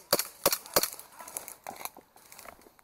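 Three quick, sharp pistol cracks sound at close range during an outdoor airsoft game, followed by fainter scattered pops and rustling.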